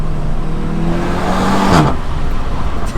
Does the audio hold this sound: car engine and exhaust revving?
yes